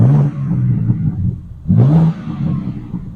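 A BMW M3 Touring in M mode revs twice close by, each blip a loud rising growl that quickly falls away into a low burbling idle.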